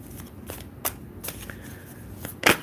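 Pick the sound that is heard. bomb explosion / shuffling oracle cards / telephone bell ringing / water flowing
shuffling oracle cards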